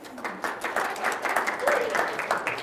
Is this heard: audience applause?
yes